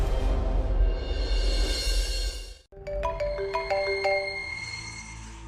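A mobile phone rings with an incoming call in a Malayalam TV serial scene. After a brief drop to silence, a bright melodic ringtone plays a sequence of distinct chiming notes, clear and close, taking over from the preceding background music.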